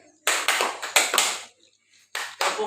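Banser trainees at a Telawang, Central Kalimantan camp clap their rhythmic chant together, four crisp bursts of group clapping in two pairs separated by a short pause, loud and close.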